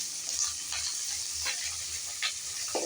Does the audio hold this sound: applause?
no